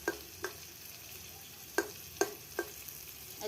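Olives sautéed in a pan for pickle, a low steady sizzle broken by several sharp spatula scrapes and taps against the pan at an uneven pace.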